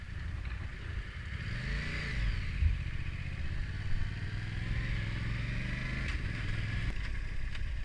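A motorcycle engine hums steadily from a rider's vantage, with its pitch rising and falling through a few gentle throttle changes under constant wind noise.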